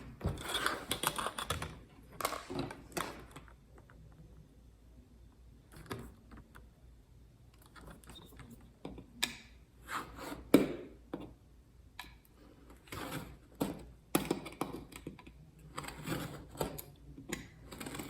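A cutting tool scores and slices through a linoleum sheet for relief printing, producing irregular bursts of close, crisp scraping and clicking strokes separated by quiet pauses.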